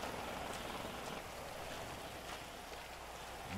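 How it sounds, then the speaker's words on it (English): Rain in the video game GTA 5 hisses continuously at a moderate level, with soft drips and splashes mixed in and no talking. "Raining in the house."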